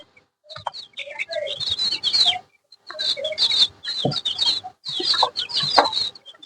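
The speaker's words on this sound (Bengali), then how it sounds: "এই যে আমার সেই মুরগির খামার" Native chickens in a small caged poultry farm cluck and cackle close by in three lively bursts separated by short pauses, with no voices.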